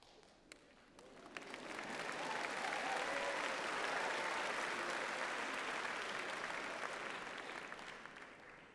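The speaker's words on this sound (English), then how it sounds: "please clap and cheer when your friends and family cross the stage" A large audience at a graduation ceremony for a health and social sciences faculty breaks into applause and cheering, swelling after a quiet start and holding as a broad, distant, sustained roar.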